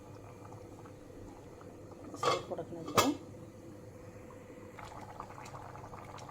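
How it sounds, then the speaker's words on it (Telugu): Roop chand fish curry with chili powder, water and whole fish simmers in a cooking pot, giving a steady low bubbling hiss, with a brief voice speaking partway through. "వాటర్ పోసి ఫిషెస్ ఇందులో వేసేసాను ఉడుకుతున్నాయి చూడండి"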